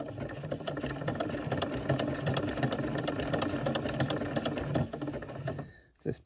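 A sewing machine runs steadily, stitching a fabric-wrapped coiled rope bowl with a rim and handles, its motor whirring continuously up close before cutting off near the end.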